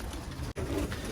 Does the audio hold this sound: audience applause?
no